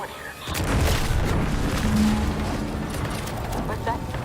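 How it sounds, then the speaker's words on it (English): An explosion in The Outer Worlds 2 video game sets off a deep, rumbling boom that swells quickly and rolls on as dense, low, crackling noise for several seconds. "What's that? An explosion?"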